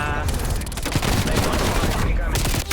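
Rapid, relentless shotgun blasts from the Street Sweeper in the video game Call of Duty: Black Ops Cold War, a loud dense fusillade of repeated shots filling the whole stretch.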